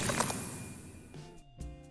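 Layered icy sword-attack effects from three combined sounds: a bright crackling shimmer fading out, then metallic ringing tones and a low thud, close and fairly quiet.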